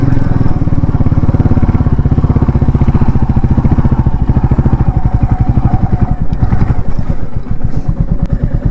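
A motorcycle rumbles loud and close along a rough trail toward the Indo-Myanmar border near Longwa village, its engine pulsing in a rapid, steady chug throughout.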